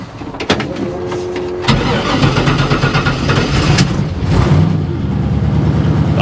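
A 1957 Chevy engine cranks and catches, then settles into a loud, steady, rumbling idle up close, with a brief rev partway through.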